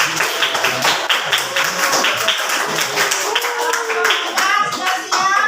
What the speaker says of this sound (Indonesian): Beri aplaus dulu kelompok 3.